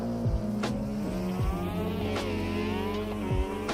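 A racing car's engine in a video game drones steadily as the rear tyre spins up, with the pitch sweeping and dropping through several quick rev changes and gear shifts, close and continuous without talk.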